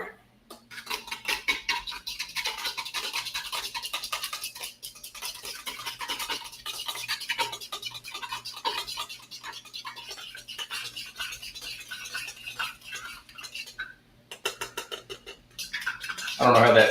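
A fork beats eggs in a bowl, producing a rapid, scratchy clinking and whisking rhythm that runs steadily and close-up, pausing briefly near the end before resuming.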